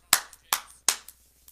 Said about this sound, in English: So a round of applause for the Toronto Blue Jays.